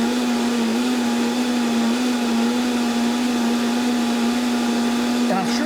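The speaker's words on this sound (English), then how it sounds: "I love a Vitamix. This is my favorite toy. It does all the work for you." A Vitamix blender runs at full power blending salsa for a Cinco de Mayo meal, a loud steady motor whine that holds constant throughout, with a brief change near the end.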